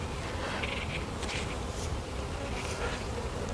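Honey bees swarm around an open beehive during a hive check, a dense, continuous buzzing that fills the air at close range, steady and fairly quiet, with no talk.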